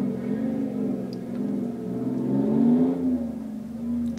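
A big semi-truck engine rumbling loudly and steadily nearby, its deep drone swelling briefly as if revving, then settling back, with no speech.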